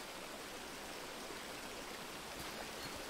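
A little river in the Among Trees game flows with an even, soft rushing hiss, steady and faint throughout, with no voices.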